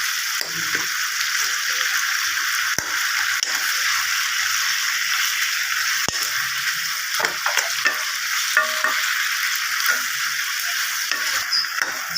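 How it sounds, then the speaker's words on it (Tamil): Tomatoes frying in a pan for a hotel-style tomato chutney: steady close sizzling throughout, with occasional spoon scrapes and soft stirring clicks. "அப்புறம் தக்காளியை தனியாக வறுக்கணும்"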